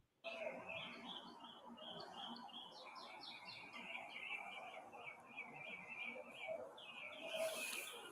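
Many birds chirping outdoors, a busy layered chorus of quick tweets and trills at moderate distance, continuing throughout with faint room tone underneath.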